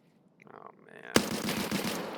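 Gunfire in the video game Escape from Tarkov: a quiet lead-in, then a sudden loud shot followed by a dense burst of rapid automatic fire that keeps going to the end, close and harsh.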